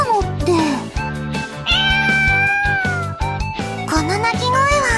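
A cat meows repeatedly in an anime game scene, several drawn-out, rising and falling calls heard loudly over background music.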